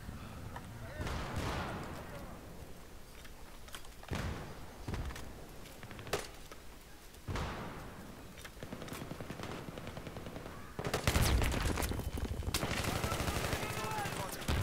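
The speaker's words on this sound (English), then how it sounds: "Yeah, I shot about four guys, didn't get a single kill." Gunfire rattles on the Grand Bazaar map of Battlefield 3 in squad deathmatch, distant bursts and single shots scattered through the scene, growing into louder sustained firing near the end.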